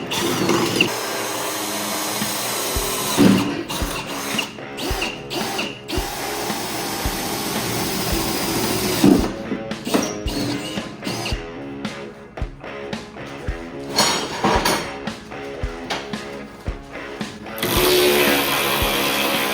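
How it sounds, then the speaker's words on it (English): Power drill boring out fasteners on a Jeep TJ body during a stretch to LJ length, loud close bursts of whirring and grinding in repeated stop-start runs with brief pauses between. "what we're gonna do is just start drilling this stuff out"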